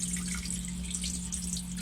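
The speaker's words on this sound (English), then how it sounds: "water's running" Water running steadily into a boat's hull through a cracked stuffing box, a continuous close trickle and splash with a low droning hum beneath it.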